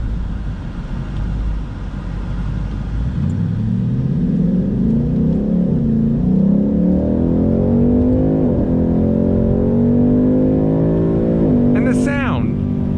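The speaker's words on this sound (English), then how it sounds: "And the sound, I mean, it's a V8." A 2019 Ford Mustang GT California Special's V8 engine rumbles low and steady, then climbs in pitch as it accelerates and revs, with a voice talking over it and a brief higher whine near the end.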